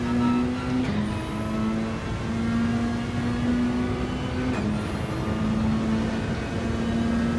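A Gr.3 race car in Gran Turismo 7 runs flat out around Brands Hatch, a loud, steady engine drone that holds high revs, with two quick upshifts briefly dropping the pitch before it climbs again.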